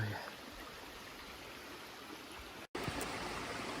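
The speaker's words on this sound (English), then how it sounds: "I'm just gonna try this little creek here." A small creek, the kind that might hold brook trout, flows with a steady, fairly faint rushing wash, broken by a brief dropout near the end.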